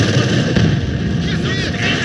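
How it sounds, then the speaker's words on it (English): Explosives detonating in Company of Heroes 2, a Soviet campaign mission, as a dense, continuous roar of battle-scale blasts and rumbling low-end noise that runs through the whole stretch, loud and close. "Detonate the explosives"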